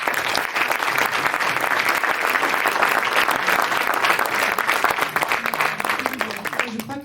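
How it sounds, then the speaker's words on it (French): Audience applause at an energy-transition panel event, sustained and even clapping from a sizable crowd, loud and continuous before tapering off near the end. "je pense qu'on peut les applaudir"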